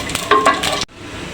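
Whole garam masala, dried chillies, bay leaves and panch phoron sizzling in hot oil, a brief burst of crackling and stirring scrapes that cuts off abruptly, leaving a soft hiss.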